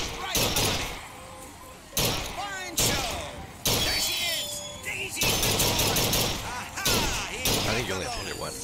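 Gunfire from the video game Bioshock Infinite: about seven loud, sharp shots fire at irregular intervals over a continuous bed of game sound.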